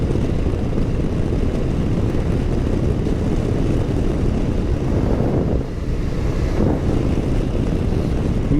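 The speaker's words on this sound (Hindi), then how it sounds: "मुझे काफ़ी ज़्यादा ना बफरिंग हो रही है बाइक के ऊपर।" Heavy wind buffeting on a Honda CB500X motorcycle while riding to Burlington, Canada, a loud, constant low roar that rumbles and surges slightly, with no talk over it.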